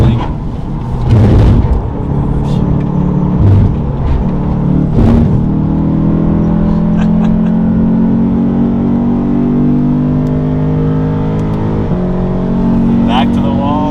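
A Lexus IS500 F-Sport V8 revs and pulls hard on a racetrack, a loud, sustained engine note rising and falling through gear changes, with a voice talking over it throughout.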